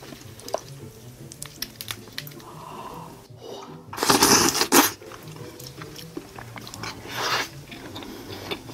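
Someone eating raw crab marinated in soy sauce with rice, up close: wet, squishy bites and slurping sucks in short bursts, one long juicy squelch in the middle and softer chewing around it.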